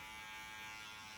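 Electric hair clipper running with the lever open during a short fade haircut, a steady, close, continuous buzz with no breaks and no talking.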